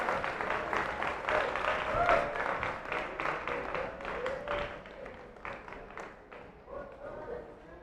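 A Filipino crowd at a 2019 jiu-jitsu semifinal cheers and applauds a victory, loud at first and then thinning into scattered claps and shouts, with some talk mixed in.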